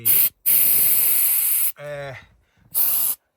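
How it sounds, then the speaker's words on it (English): Bursts of compressed air from a can blasting into the leaking side-window seal of a VW T5 Kombi van, three loud hissing sprays separated by short pauses, with a brief voice sound between them. "trying to demonstrate that with the air in a can"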